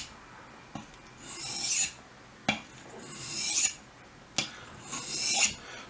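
Three slow, even strokes of a knife blade drawn along a flat sharpening stone, each a rising hiss of rasping steel, close and clear with short pauses between.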